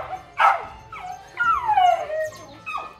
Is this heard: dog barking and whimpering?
yes